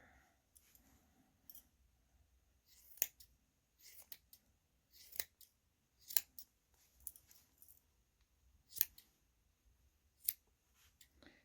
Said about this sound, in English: Get my scissors, and I'm just going to trim them.